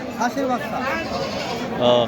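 Short quavering goat bleats sound up close at the Baneshwar livestock market, two or three brief cries mixed with nearby voices chattering.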